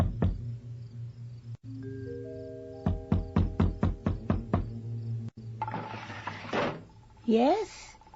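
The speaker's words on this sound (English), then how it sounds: "You'll have to knock on the door." Knocking on a door in a radio drama: a quick run of about eight sharp, close raps in a steady rhythm, set among other thumps and room sounds, with a brief tonal sound near the end.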